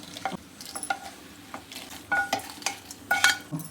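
Moringa leaves frying in hot oil for a village-style chutney, a soft steady sizzle broken by sharp crackles and scraping stirs of a spatula in the pan, close by with no talk.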